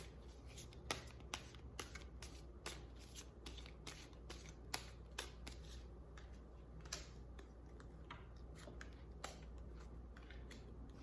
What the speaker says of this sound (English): I'm just going to leave that there and finish shuffling